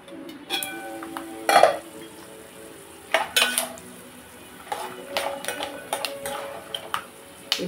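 Green chillies and garlic frying under a lid in a pan, giving a continuous sizzle broken by scattered sharp pops and clicks at irregular intervals, close up with no voices.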